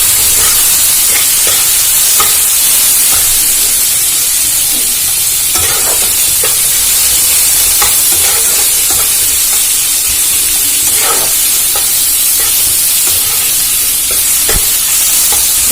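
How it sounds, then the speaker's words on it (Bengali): Chopped garlic fries in oil in a wok, a loud, continuous hiss and sizzle with intermittent scraping stirs throughout, no talking over it. "আমি এর মধ্যে রসুনটা দিয়ে দেবো আমি যেটা ছোটো করে রেখেছিলাম"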